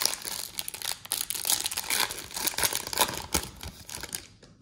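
A foil wrapper on a 2021-22 MVP hockey card pack crinkles and tears as it is opened by hand, a close, continuous crackling rustle of irregular bursts with no talking.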